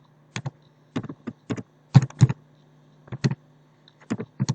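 CSS code is being typed on a computer keyboard, close and clear, with short clusters of key clicks separated by brief pauses and an uneven rhythm.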